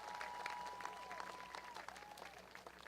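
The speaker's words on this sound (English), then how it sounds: "Let's clap it up for her again as well." An audience at a statue unveiling ceremony gives a short round of applause. The clapping sounds faint and distant, with scattered hand claps over a steady background tone.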